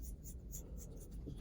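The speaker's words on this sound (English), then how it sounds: "right now, I'm cutting through both layers of fabric at the same time" Scissors slice through two stacked layers of fleece fabric for a no-sew hat, giving faint, close, rhythmic snips with soft scratchy rasps between them and no talking.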